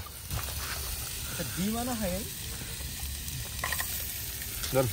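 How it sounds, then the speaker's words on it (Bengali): Sausages sizzle in a pan at a night campsite, a steady close frying hiss with occasional pops. People talk nearby over the frying. "সজেস রান্না করা হচ্ছে, তারপরে ফ্রোজেন পরোটা আছে"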